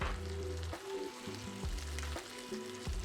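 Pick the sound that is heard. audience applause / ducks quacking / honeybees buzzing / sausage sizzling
sausage sizzling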